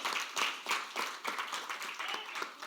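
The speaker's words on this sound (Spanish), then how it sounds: "Vamos, dale un aplauso al Señor." A church congregation claps in quick, fairly even rhythm, the sharp hand claps spaced like a rapid pulse and heard at moderate distance with no talk over them.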